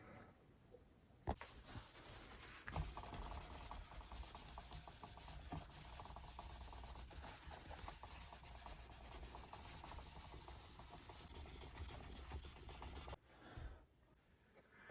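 A cloth wipes excess Dunlop lemon oil conditioner off the fretboard of a Dimebag Darrell replica electric guitar, giving a steady close rubbing and scrubbing for about eleven seconds before stopping, no voices.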